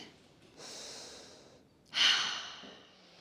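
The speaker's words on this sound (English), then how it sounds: "we'll just take a few moments to breathe" Slow, deep breaths during a seated Pilates stretch: a long, soft, airy inhale followed by a stronger, breathy exhale that fades gradually, close and quiet with no talking.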